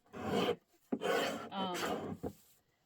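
A blade trims the damaged edge of a book spine for a purple floral journal, three rasping scraping strokes separated by short pauses and light taps, close and fairly quiet.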